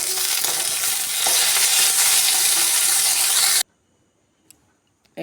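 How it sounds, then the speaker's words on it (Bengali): Onions, spices and tomatoes fry in a pan with a loud, continuous bright sizzle and stirring scrapes, then cut off abruptly into near silence broken by a couple of faint clinks. "একটু টমেটোটাকে হালকা একটু নেড়ে নেবো।"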